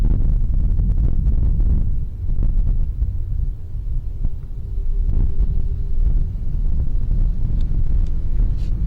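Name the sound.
wind blowing outdoors at night near a cave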